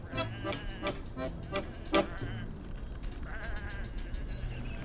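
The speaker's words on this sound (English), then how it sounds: "Come on, these are just sheep." Video game sheep bleat several times in quick, repeated, loud calls, followed by a quieter stretch with fainter ambient game sounds.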